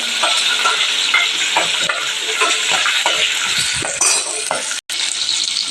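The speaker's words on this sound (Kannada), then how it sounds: "ನೋಡಿ ಉಳ್ಳಾಗಡ್ಡಿನೂ ಫ್ರೈ ಅದು" Sliced onions fry with green chillies in a hot pan, giving a steady, close sizzle with light stirring scrapes throughout and a momentary drop-out before the hiss resumes.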